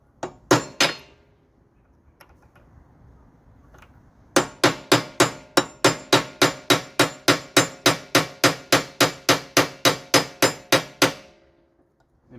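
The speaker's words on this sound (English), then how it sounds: "I'm going to keep hammering this until it falls out" A hammer strikes a punch to drive an old pin out of a snowblower, a few taps at first, then a long steady run of about twenty sharp metallic blows, close and loud, with no talking.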